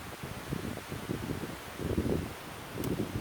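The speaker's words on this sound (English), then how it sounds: "the camera is shaking because the wind is blowing the mount around a little bit" Outdoor wind gusts shake a camera mount, giving a soft, uneven rumbling buffet with rustling surges that rise and fall throughout.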